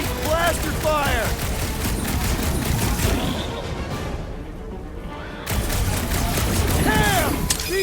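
Rapid blaster fire crackles through a Guardians of the Galaxy video game battle, with dense bursts of shots and impacts that dip briefly midway before resuming loud, mixed with voices talking over the fighting.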